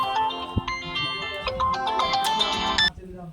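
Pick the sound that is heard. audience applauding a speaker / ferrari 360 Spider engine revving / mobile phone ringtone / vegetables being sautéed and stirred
mobile phone ringtone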